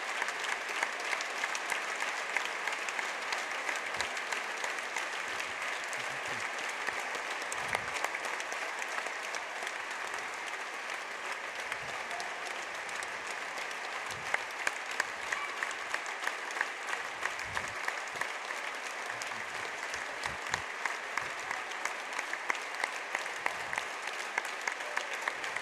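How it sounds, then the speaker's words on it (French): Sustained audience applause in tribute to a departed friend at a Spanish–French pala corta final, a dense steady wash of many hands clapping for the whole stretch with no voices over it. "on va d'abord applaudir Jean-Marie Maillaro"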